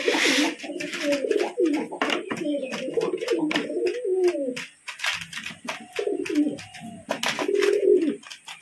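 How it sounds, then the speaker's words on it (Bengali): Pigeons in a home loft, an adult among its chicks, coo repeatedly in soft, throaty rolling phrases, close by, with faint rustling between calls. "এইখানে ধাড়ি পায়রাটা রয়েছে"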